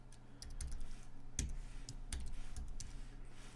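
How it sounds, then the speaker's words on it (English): Typing on a computer keyboard while writing Python code, a few sparse soft key clicks at a close distance over a low steady hum, with no talking. "actually we'll just type this out"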